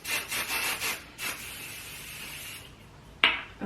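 Hair spray for texture and volume released in a few short, close hissing bursts, with a longer steady spray and then one sharp final puff.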